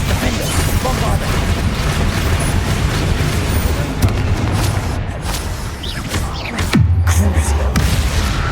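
Blasting spell effects from Hogwarts Legacy, with booms and crashes going off through busy, layered combat noise and a heavy low impact late in the clip.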